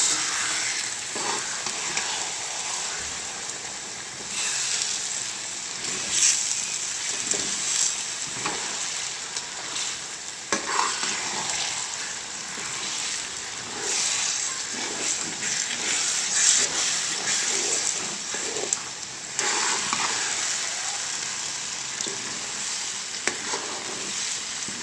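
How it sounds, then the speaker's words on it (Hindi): Semolina fries in a pan for Punjabi makhandi halwa while a spoon stirs it continuously, with a steady sizzle broken by scraping strokes and soft clinks, no talking. "देखिए, इसमें अच्छे से हम चम्मच हिलाएंगे ताकि ये नीचे ना लगे।"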